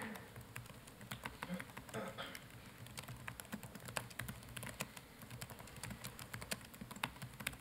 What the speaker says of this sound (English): So I can type a message.